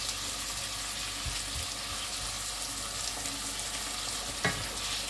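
Roughly chopped tomatoes fry over a high gas flame, filling the space with a steady broad sizzle and an occasional faint scrape of stirring, with no voices over it.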